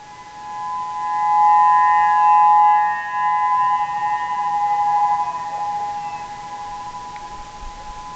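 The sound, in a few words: tsunami civil defense siren in Oceanview, Hawaii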